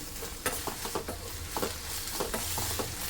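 Corn kernels roasting in a pan with salt and lemon, a steady soft sizzle with repeated light stirring scrapes and taps.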